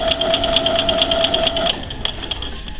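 Sewing machine stitching along the edge of folded tape while sewing a side seam, a fast, steady mechanical whir with regular rhythmic ticks that stops partway through, leaving a few faint clicks.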